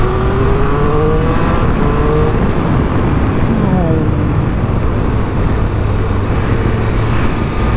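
A 2025 Triumph Speed Triple motorcycle engine under way on the road, a loud continuous drone with rising and falling pitch as it accelerates, mixed with steady wind rush, while a rider talks over it.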